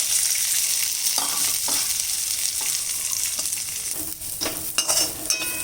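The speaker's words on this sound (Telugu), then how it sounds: "జస్ట్ 1 స్పూన్ నూనె వేసి ఈ కిస్మిస్ వేసేస్తాను" Raisins fry in a spoonful of hot oil for a poha and nut snack mixture, a close, steady sizzle with occasional sharper pops and stirring scrapes toward the end.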